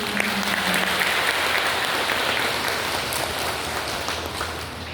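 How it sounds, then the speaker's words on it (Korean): Applause for the head monk at a Buddhist memorial ceremony, a full round of clapping from the gathered worshippers, loud and steady before tapering slightly near the end, with a brief voice at the start. "주지스님께 다시 한번 큰 박수 부탁드립니다"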